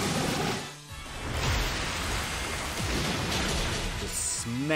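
A dense, roaring rush of spraying water fills the whole clip, steady and loud like a powerful blast from a hose: a water attack sound effect in Pokemon Shield.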